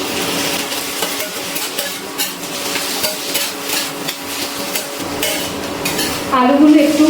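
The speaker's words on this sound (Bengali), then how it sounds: "ইন্ডাকশনের ফ্লেমটা একদম লোতে দিয়ে আমি কিন্তু আলুগুলো ভেজে নিচ্ছি।" Potatoes fry in a pan on an induction cooker set to low heat. A spatula scrapes and clatters against the pan in busy bursts over a steady sizzle, and a voice briefly cuts in near the end.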